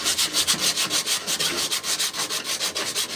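Sandpaper rubbed back and forth by hand on a car body, a rhythmic close scratching with about a dozen quick even strokes, no voices.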